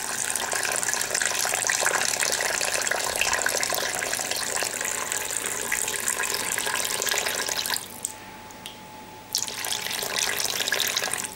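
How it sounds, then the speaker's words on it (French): Tap water runs and pours into a bowl on a kitchen scale while weighing 250 g for bread dough, a steady splashing stream that stops briefly near the end, then resumes. "On va peser 250 g d'eau."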